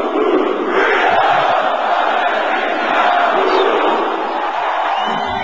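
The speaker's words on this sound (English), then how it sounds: "His vision of financial freedom moves the crowd to a chant we hear over and over again." A big crowd at an Amway convention shouting in unison, a loud sustained roar of many voices with rhythmic chant-like swells.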